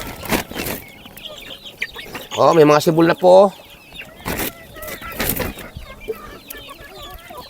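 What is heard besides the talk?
chickens clucking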